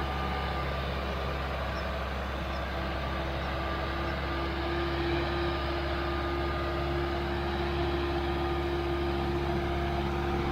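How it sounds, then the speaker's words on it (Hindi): Sonalika DI-65 CRDS tractor pulling a 20-disc harrow in a farm field, a steady loud diesel engine drone with a constant low hum and tonal whine running unbroken throughout, no talk. "पीछे 20 तवे की हैरो है और ये कुछ किसान साथी हैं जो इस ट्रैक्टर का चला के देख रहे हैं इस ट्रैक्टर को।"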